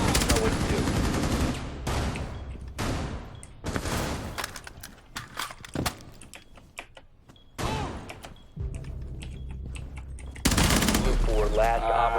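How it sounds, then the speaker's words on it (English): Gunfire in the video game Rainbow Six Siege, bursts of loud automatic shots and single cracks with sharp reports and heavy thuds, fired repeatedly at close range with short pauses between volleys. "you can shoot through walls"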